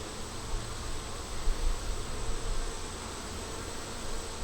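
Honeybees buzz steadily from an opened double-deep nuc hive with brood, larvae and nectar on the frames, a dense close insect drone that holds level throughout with a few slightly louder swells.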